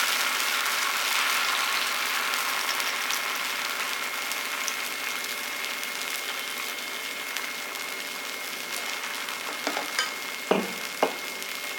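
Rava dosa batter sprinkled onto a hot oiled pan sizzles loudly and steadily, with a few brief clicks and taps near the end and no talking.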